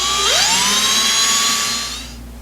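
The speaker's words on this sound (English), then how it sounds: "That'll be my drill mark where I drill it." A power drill spins up with a rising whine and holds a high, steady pitch while boring a small pilot hole for a plaque screw, then winds down near the end.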